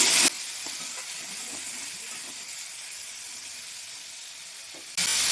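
Chopped green tomatoes, with a little oil and nigella seeds, sizzling steadily in a hot kadai, a continuous bright hiss with small crackles. The sizzle briefly drops in the middle, then flares up again near the end.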